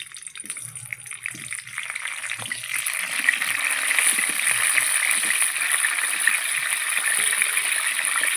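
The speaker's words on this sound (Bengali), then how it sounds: "তেল ভালো করে গরম করে নিয়েছি, ফুলকপিটা দিয়ে দেবো। দিয়ে দিচ্ছি তেলে।" Cauliflower pieces dropped into hot oil set off a steady, broad hiss that swells after about three seconds and holds loud and continuous, with faint clatter underneath and no talking.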